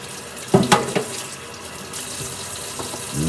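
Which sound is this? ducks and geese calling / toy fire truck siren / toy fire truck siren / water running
water running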